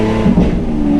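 Lamborghini Aventador S Roadster engine revving loudly as it works through its gearbox on a spring drive, a close, throaty roar with a brief rise in pitch midway.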